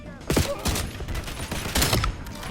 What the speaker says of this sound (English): I did get the first shot off, and the fire rate kind of was fast enough for me to get off a second shot.